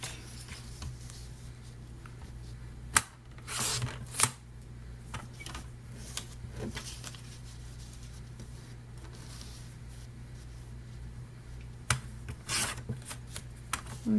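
Paper challenge cards are trimmed down, giving soft, scattered scraping and rasping strokes at close range. A few louder bursts break up long quiet stretches.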